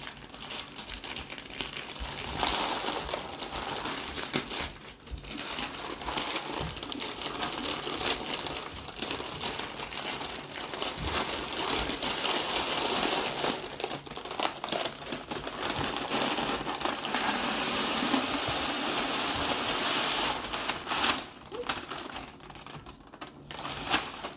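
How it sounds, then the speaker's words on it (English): Homemade granola is tipped from rolled-up parchment paper into a container: steady crinkling of the paper and a dense rattling pour of dry oats and clusters, close and continuous for the whole stretch, with no talk. "roll up the parchment paper and to use it as a funnel to dump it in the container"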